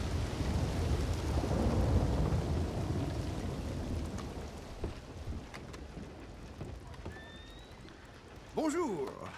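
Thunder rumbles loud and long over steady rain during a storm in Saint Denis in Red Dead Redemption 2, fading to patter, followed by a short voice near the end.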